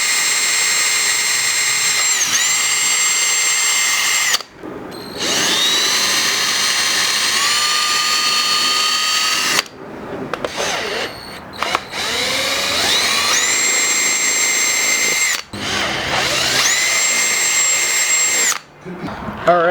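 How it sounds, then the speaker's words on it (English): A power drill bores holes through a plastic C5 Corvette bumper, loud whining bursts of several seconds each separated by short pauses, with a high steady motor tone. "So you saw I drilled the holes through."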